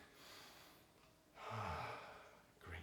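A person takes a deep, slow inhalation during a guided stretching exercise, a soft airy breath rising then fading, followed by a brief second intake, close and quiet with no talking.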